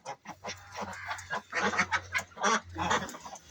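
Household ducks, a flock of about thirty with nine more, give loud, close, repeated honking quacks in overlapping bursts throughout, with no talking.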